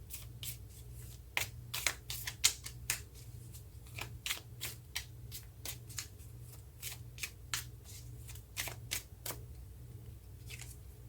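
Tarot cards being shuffled during a reading, a steady series of crisp riffling snaps and flutters repeating over several seconds, close and clear with a low hum beneath and no talking.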